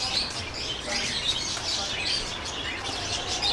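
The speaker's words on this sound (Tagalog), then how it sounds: "meron din silang mga alagang ibon dito" Pet birds chirp and twitter indoors in a museum, several thin high calls overlapping in a continuous moderate chatter with faint background hum.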